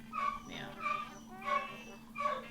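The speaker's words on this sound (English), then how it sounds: "Pardon my dogs." Pet dogs whimper and yip in four evenly spaced, high, whiny cries close by, each swelling and fading, with a brief word of talk mixed in.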